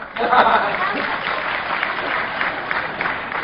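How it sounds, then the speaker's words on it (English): A room of people at a talk clap together to welcome someone back, a dense, close burst of clapping that starts sharply and holds steady for a few seconds. "So when he comes back in, everyone clap."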